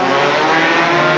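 A Toyota race car in practice, heard from onboard with the camera on the roll bar, gives a loud, steady, buzzing engine drone at high revs that fills the whole moment without letup.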